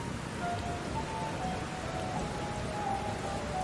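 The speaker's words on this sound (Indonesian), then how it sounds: "Berbahaya berada di ladang di tengah hujan badai begini." Heavy rain pours steadily during a storm over a rural field, a dense continuous hiss of drops striking surfaces with a faint low rumble beneath, and no voices.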